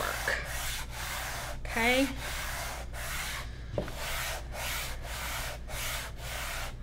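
Rhythmic back-and-forth scrubbing strokes on a wooden lazy Susan stripping off its old finish, about ten even rasping passes, close and moderately loud, with a brief spoken word partway through.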